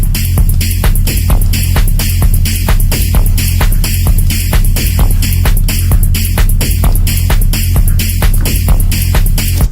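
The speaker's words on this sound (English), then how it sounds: "I think I would like a bit of delay." Hard techno track produced in Logic Pro X with delay added, loud pulsing kick-driven rhythm with regular throbbing beats and a steady low drone throughout, no voices.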